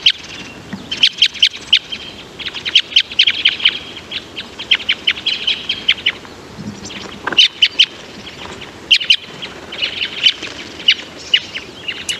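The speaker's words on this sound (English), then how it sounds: "called the Cassia crossbill, which was formerly described as the type 9 red crossbill" Repeated harsh, buzzy flight calls of a Cassia crossbill, formerly known as type 9 red crossbill, from southern Idaho mountain ranges, delivered in quick clustered bursts, close and clear over a quiet background.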